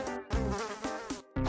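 A housefly buzzes up close in a run of whining bursts, broken by two brief silent gaps before it resumes loudly.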